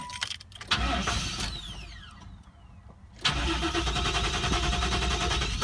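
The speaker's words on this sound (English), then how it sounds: "the car runs absolutely terrible" Buick Roadmaster V8 in poor condition cranking and catching, then settling into a rough, loud, uneven idle that runs steadily after a brief lull.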